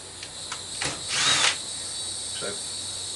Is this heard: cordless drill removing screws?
yes